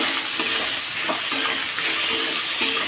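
Okra (bhindi) fries in a pan after turmeric powder is added, while a spatula stirs it. A close, steady sizzle runs under repeated soft scraping strokes, with no talking.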